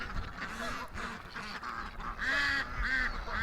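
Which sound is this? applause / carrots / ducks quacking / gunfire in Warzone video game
ducks quacking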